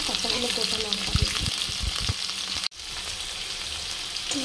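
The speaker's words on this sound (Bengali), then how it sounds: "দেখো আলুগুলো ভালো করে ভাজা হয়ে গেছে" Potatoes fry in a pan with a loud, continuous sizzle, with a few knocks and clatters in the first half, then an abrupt cut and a steadier hiss afterward; no clear speech.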